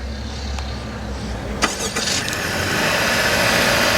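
A 2018 Honda Accord EX-L with a 1.5-liter turbo engine cranks and starts, a brief whir of the starter followed by a steady, fairly quiet idle close by.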